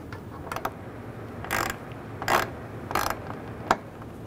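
Ratchet clicking in short bursts as a screw is tightened on the AC condenser of a 2011-2014 Hyundai Sonata, close and alone, with a few light metallic taps between the bursts.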